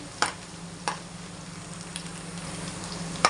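Sliced onions frying in plenty of hot oil for a fish curry: a steady soft sizzle from close by, with a few sharp ticks and clinks from a utensil against the pan.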